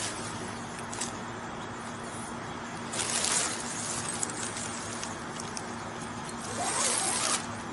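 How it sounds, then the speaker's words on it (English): A zipper runs along the door of a Six Moons Designs Lunar Duo ultralight tent in several quick, close, rasping pulls separated by quieter fabric handling. "Zip everything back up on that side."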